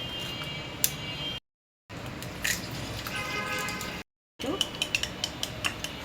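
Eggs and salt being whisked into rice-flour batter for Noakhali kholaja pitha, a steady clatter of utensil against bowl with sharp ticking strikes, broken by two brief silences.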